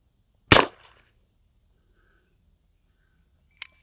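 A single loud rifle shot cracks from a Henry All Weather side loading gate .44 Magnum lever-action at an outdoor 20-yard range, decaying quickly into quiet, followed by a faint metallic click a few seconds later.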